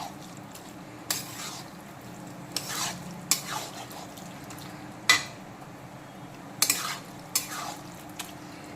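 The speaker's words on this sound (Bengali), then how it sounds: "এখন চিংড়িগুলোকেও ভালো করে মিক্সড করে নেব সব কিছুর সঙ্গে।" Fried prawns stirred into arum stalks and spices in a pan, with repeated scraping spatula strokes every second or so over a soft, steady sizzle and the occasional clink of metal on the pan.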